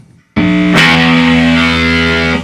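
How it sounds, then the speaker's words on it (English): An electric guitar played through a fuzz pedal modeled on a Sun Model T amp hits a loud, heavily distorted chord that rings out thick and saturated, then fades slightly. "fuzz pedal that's supposed to sound like a Sun Model T amp, and it's super loud and insane"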